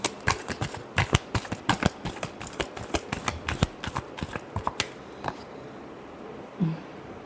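Tarot cards get a close, brisk hand shuffle, a rapid sequence of sharp flicks and slaps that thins out and stops before a short quiet tail.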